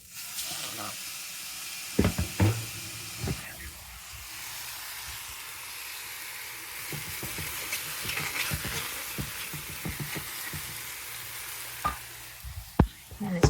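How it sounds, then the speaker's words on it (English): Konjac noodles hiss and sizzle in a large hot pan, with a strong steamy rush at first, then scraping stir strokes and clinks of a utensil, close up, and a voice talking faintly in places. "And let's add our konjac noodles."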